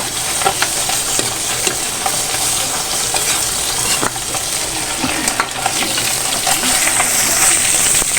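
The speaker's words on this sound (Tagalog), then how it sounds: "Ay naku, tumatalsik po yung mantika." Cooking oil spattering and sizzling loudly in a pan of spicy snail adobo, a dense, constant crackle close up, broken by scattered sharp pops and the scrape of stirring.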